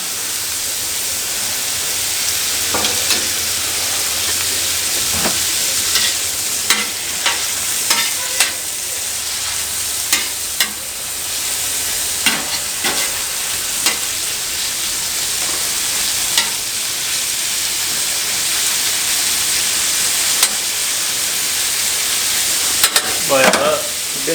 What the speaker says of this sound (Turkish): Pişerken ben bundan biraz daha tereyağı ilave ediyorum